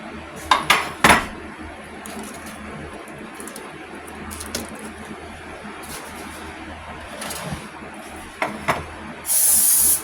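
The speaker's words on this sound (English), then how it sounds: "Now I'm going to get my muffin pan and spray it." Metal pans clatter and clink a few times, followed by a short hiss of cooking spray near the end; no talking.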